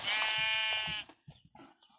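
Sheep in the video game Minecraft give one loud, drawn-out bleat lasting about a second, followed by a few quieter scattered game noises and faint sounds.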